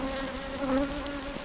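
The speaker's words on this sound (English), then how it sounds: "A couple of bees stuck to the marking cage" Honeybees buzz close around an open hive during an inspection, a dense steady hum with slight pitch wavering and no talk.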